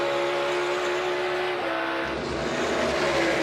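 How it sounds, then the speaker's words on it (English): In-car sound from a NASCAR race car in the 2022 Coca-Cola 600, a loud, steady engine drone that drops in pitch around a gear shift midway, with other cars' engine noise behind it. "Here another shift. Starting to hear more cars shifting in that in car."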